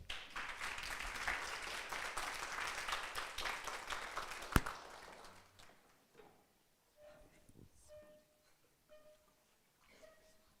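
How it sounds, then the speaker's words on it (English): An audience at a design challenge event gives presenters a round of applause, a full clapping wash that holds for several seconds, ends with a sharp knock, then fades into quiet room noise and faint sounds. "Let's give a round of applause to Anna and Nu."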